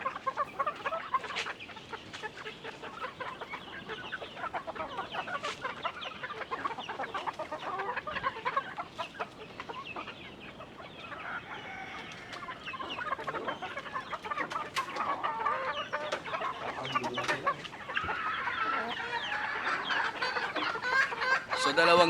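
Quail and gamefowl cluck busily around a farm at morning feeding, a dense, steady chorus of close and distant bird calls with an occasional faint crow, running continuously without speech.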